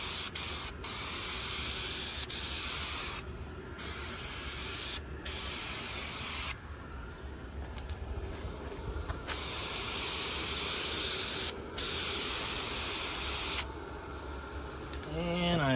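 Spray can hissing as a second coat of paint goes onto a Suzuki GS500 motorcycle handlebar, several long close bursts broken by short pauses, loud and steady.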